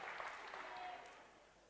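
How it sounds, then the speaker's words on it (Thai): An audience at a Thai business seminar claps together, a soft dense patter of applause that slowly fades, heard faintly at a distance. "ปรบมือพี่เขาหน่อยครับ"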